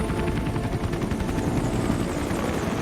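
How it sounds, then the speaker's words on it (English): A helicopter in Metal Gear Solid V thrums steadily and loudly throughout, its rotor chop forming a dense, continuous low rumble with no talk over it. "Fire these guys flying the helicopter right now"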